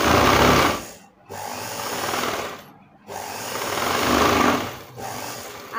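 A sewing machine stitches lace onto a blouse in loud, close, whirring runs, stopping briefly twice between bursts of stitching.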